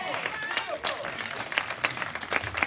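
Church congregation applauding for a performance during a Sunday service, steady crowd clapping throughout with scattered sharper claps and some talk mixed in.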